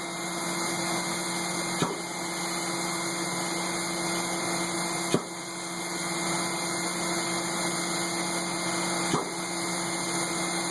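Liquid pump running with a steady mechanical hum and tonal whine, broken by a soft thump roughly every three to four seconds as it cycles; constant and moderately close, with no voices.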